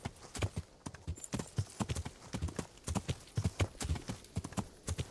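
A horse's hooves clip-clop in a quick, steady trotting rhythm in the video game Kingdom Come, close and clear, with faint voices now and then.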